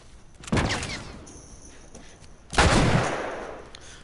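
Two loud, close gunshot blasts from The Last of Us ring out about two seconds apart, each one decaying with a short echoing tail.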